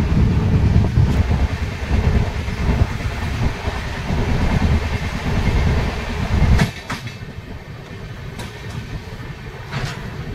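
Bhubaneswar–Howrah Jan Shatabdi Express rolling along with a loud, steady rumble and wind noise, then easing to a quieter, thinner running sound in the last few seconds as it nears Bhadrak station; no voices.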